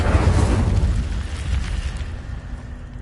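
Fiery Incendio spell erupting in the Hogwarts Legacy video game, a loud rumbling burst of flame at the start that rolls on and slowly fades across the whole stretch.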